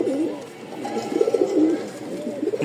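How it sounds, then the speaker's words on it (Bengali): Pigeons in a breeding pair coo repeatedly nearby, with soft warbling, rolling calls coming in several bursts, clearly audible over a quiet background. "আপনি শুধু ডাক হাঁকটা দেখেন, কবুতরের সাউন্ড কি মাশাআল্লাহ"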